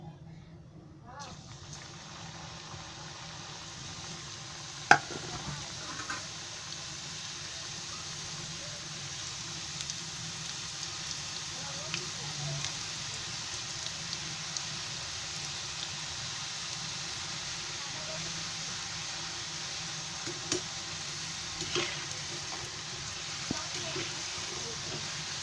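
Salted shankarpali dough pieces dropped into hot oil on a gas stove, a continuous close hiss of frying with a few faint pops and clicks over it, steady throughout.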